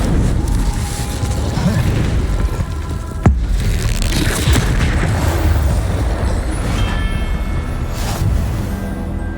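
A loud, dense burst of fire-spell magic from Incendio in Hogwarts Legacy, with a sharp crack partway through over a constant roaring rumble, and a voice speaking in the background.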